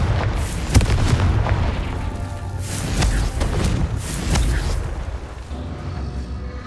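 Confringo fire spell blasts in Hogwarts Legacy, a string of deep booming bursts and rumbling explosions that keep going with little pause, loud and close.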